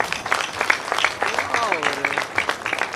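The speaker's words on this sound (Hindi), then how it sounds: "मैं चाहूँगा आप सभी लोगों के लिए अब तक की जोरदार ताली हो जाए।" Audience applause at a stage event in Ballia, steady clapping from a crowd throughout, with a voice speaking over it and a sustained tonal voice mid-way.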